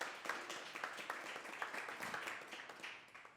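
Modest audience applause at a live storytelling show in Chicago, a scattered crowd of claps at moderate distance, steady for a few seconds before tapering off.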